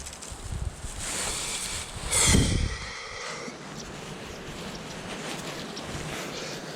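Wind blows across the microphone while someone fly fishes outdoors, a low, fairly faint rushing with one stronger gust partway through before it settles back to a steady breeze.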